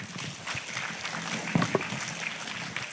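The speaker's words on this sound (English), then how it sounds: "I'd like to invite a big applause for the three speakers" An audience at the opening ceremony of a forum in Bali, Indonesia, applauds three speakers: a soft, even wash of clapping from a distant crowd that stays steady throughout.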